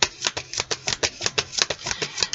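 Tarot cards are shuffled in a quick run of crisp riffles, about a dozen close, even flicks with no talking.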